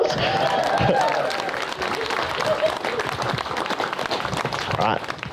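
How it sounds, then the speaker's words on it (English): Wedding guests applaud during the ring exchange, a loud mix of clapping and cheering with voices talking over it, sustained for several seconds. "Round of applause."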